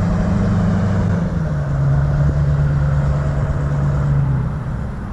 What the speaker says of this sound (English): That is a loud Duramax.